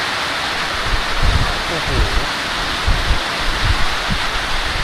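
Steady rain falling beside a canal, a dense even hiss with soft spatters and patters, close and continuous, while a voice briefly speaks over it.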